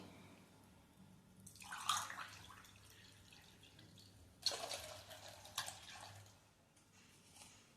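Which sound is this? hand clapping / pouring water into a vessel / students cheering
pouring water into a vessel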